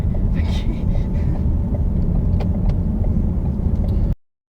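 A car driving along during a driving lesson on roundabouts gives a steady, loud engine and road rumble from inside the cabin for about four seconds, then cuts off abruptly.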